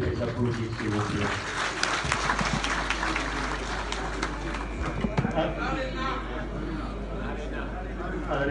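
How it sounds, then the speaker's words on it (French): A crowd at a national party convention applauds in a loose, sustained patter of clapping mixed with murmuring voices, with a low steady hum beneath. "Je vous propose de les applaudir, s'il vous plaît."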